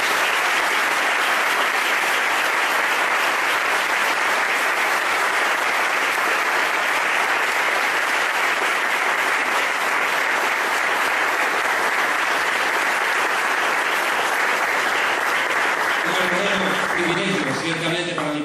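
Loud, dense applause fills a church sermon hall in Tegucigalpa, a steady roar of many hands clapping that runs throughout and begins to fade near the end.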